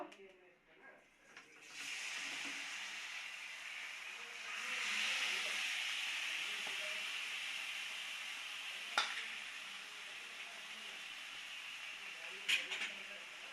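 Marinated hilsa fish poured into hot oil seasoned with black cumin, giving a steady, close sizzle that swells after a few seconds and carries on, with a couple of sharp clicks and clatters.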